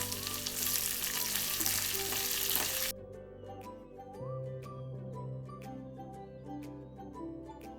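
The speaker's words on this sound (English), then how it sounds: "We're going to add onions and fry a little bit." Onions fry in a pan with garlic for gobi manchurian, a dense loud sizzle that suddenly drops to a quieter crackle with light clicks of stirring.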